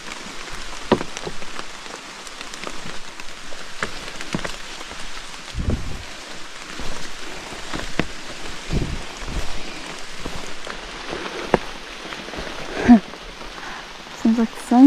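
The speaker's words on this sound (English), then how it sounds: "I can't tell if it's still raining or if it's just dripping." Rain patters steadily on a hiking trail with leaves and drips around, a dense continuous hiss with occasional louder drops and faint brief voices.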